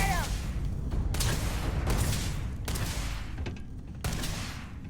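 Rapid bursts of automatic gunfire in the sci-fi video game Starfield, loud and repeated in several volleys with short pauses, over a steady rumbling game background.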